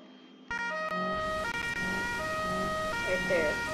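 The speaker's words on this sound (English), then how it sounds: "hear sirens." Emergency vehicle sirens wail steadily near a dirt road during a police pursuit, a sustained tonal siren over road and engine noise that swells slightly toward the end.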